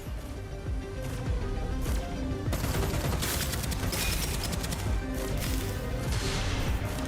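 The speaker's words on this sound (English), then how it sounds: "Oh, it's an ice grenade." An ice grenade goes off in Deadzone: Rogue amid heavy gunfire, a sharp burst at about two and a half seconds followed by continuous rapid shots and crunching impacts, loud and dense with no talking.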